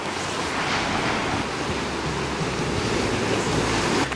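Ocean surf at a beach where people go surfing, heard as a continuous loud wash of breaking waves with wind noise on the microphone and no voices.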